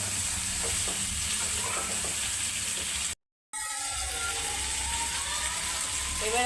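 Chicken sizzles steadily as it fries in a pan for a Maharani chicken curry, with stirring scrapes over the hiss, a brief cut to silence midway, then continuous frying again.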